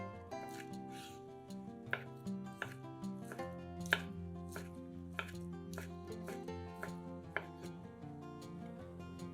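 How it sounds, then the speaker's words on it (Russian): A knife chops pork belly into small pieces on a board, sharp regular thwacks repeating over steady background music, close and clear without talk. "Нарезаем небольшими кусками свиную грудинку."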